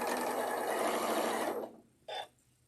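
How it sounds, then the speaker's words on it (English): A sewing machine chain pieces fabric, running in one steady, close whirring stitch for about a second and a half before stopping, followed by a short final burst of stitching. "so we're just going to chain piece these"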